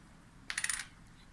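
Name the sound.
US quarter coin set down on table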